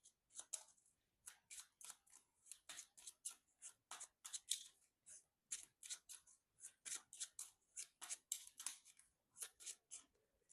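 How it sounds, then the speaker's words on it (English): A deck of cards being shuffled during a Marvel Champions tabletop game, a long run of crisp riffling bursts repeating in quick rhythmic waves, close and fairly quiet with no talk. "We'll shuffle up."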